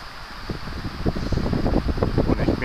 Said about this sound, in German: Und guck mal, wie der Wind mit den Bäumen so pfeift.